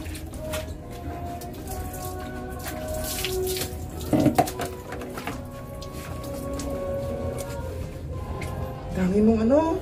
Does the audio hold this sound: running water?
yes